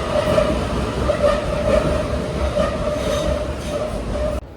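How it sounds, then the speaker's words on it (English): A London Underground District line train pulls out of South Kensington station, a steady loud rumble of wheels and motors with faint rhythmic clatter and a sustained tonal whine, running continuously before cutting off abruptly at the end. "So here's our district line train just departing the station now."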